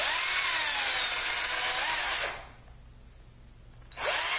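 A power drill fitted with a bit whose tip was sawn off with a hacksaw whirs loudly for about two seconds, stops, then starts again briefly, during bed frame assembly.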